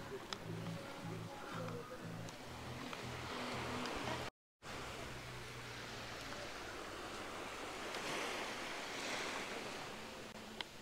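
Steady surf washing onto a quiet Koh Samui beach in Thailand, a continuous broad rush with wind noise on the microphone, briefly cut by a short dropout midway.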